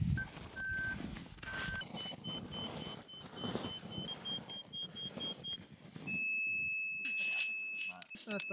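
An avalanche transceiver in search mode emits steady electronic beeps, at first in short repeated tones and later as one longer continuous tone, over outdoor wind and people talking in Finnish during a winter trek.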